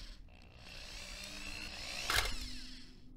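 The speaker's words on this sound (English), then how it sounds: "So I just drilled out the metal bracket at this point." A power drill bores out a metal bracket on a busted vintage 8-track player, holding a steady whirring grind that peaks in a brief louder bite near the end, close and alone.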